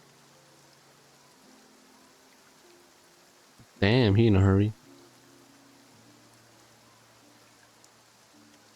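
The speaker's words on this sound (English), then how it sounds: "Oh, now it's raining." Steady rainfall hissing in the video game Genshin Impact, a soft continuous wash with faint low tones beneath, broken midway by a single short spoken line.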